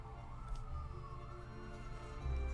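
Emergency sirens wail faintly in the distance across the city, a thin rising-and-falling tone under low background rumble.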